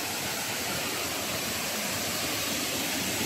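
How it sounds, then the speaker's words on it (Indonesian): A waterfall near a hot spring roars close by as a dense, constant wash of rushing water, steady and loud with no voices. "Pak sudah kuat dia punya bunyi air terjun deh."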